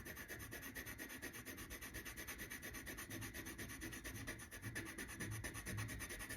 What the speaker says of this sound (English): then use your scrape tool